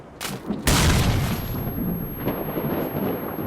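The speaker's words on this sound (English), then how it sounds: "The grenade spam. Oh my God. It's the most egregious I've ever seen in a game." Heavy grenade explosions from S.T.A.L.K.E.R. Clear Sky, a loud booming blast near the start followed by a long rumbling roll of further detonations and debris that stays loud to the end.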